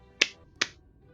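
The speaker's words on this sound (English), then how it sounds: "both those claps sucked" Two sharp, quick hand claps about half a second apart, close and crisp with short decays, thin and snappy rather than full, over a quiet background.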